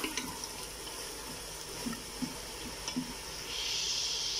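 Chicken pieces frying and being browned in oil in a pot, a steady close sizzle with faint stirring scrapes and clinks, the hiss swelling louder toward the end.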